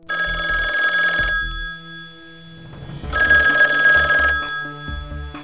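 A telephone bell rings in two bursts of rapid electronic trills, loud and close, separated by a short pause, with no voices.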